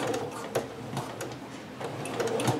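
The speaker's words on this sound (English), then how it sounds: "I'm just going to stitch a little bit below that" A sewing machine stitches fabric for a Butterick 6322 pattern garment, giving short bursts of rapid mechanical ticking and whirring that start and stop, close up with no talking.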